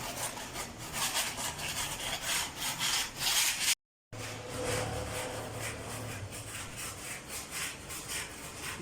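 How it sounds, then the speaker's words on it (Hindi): Old paint is scraped off a wetted house wall with a continuous, gritty rasping that rubs back and forth close by, briefly cutting out midway. "पुराने रंग को ही रगड़ के उतार रहे हैं ताकि बेस बन सके ना।"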